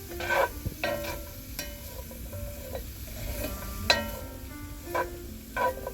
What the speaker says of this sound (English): I'm going to saute these until they're soft.